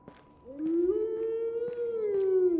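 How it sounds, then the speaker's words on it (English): Wolves howl in the medieval survival game Medieval Dynasty, one long rising and sustained howl joined by fainter overlapping calls, clear and without talk. "It's wolves."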